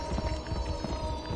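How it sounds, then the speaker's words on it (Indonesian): A large pig runs in the horror game Dreadout, its quick, muffled thudding footfalls pounding rhythmically under a low, steady hum. "Ini suara babinya"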